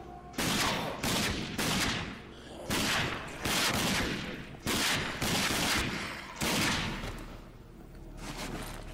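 Gunfire in the first-person shooter Rage, loud repeated bursts of rapid shots in clusters of several seconds, separated by brief pauses, with no talking.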